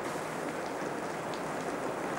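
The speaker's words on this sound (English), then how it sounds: "Is that rain? Oh, dear, yes, I think it is. Oh, good heavens, just look at that. It's absolutely pelting down." Heavy rain pelting down outdoors, a dense, steady hiss of countless drops filling the whole moment evenly, loud and close with no voices.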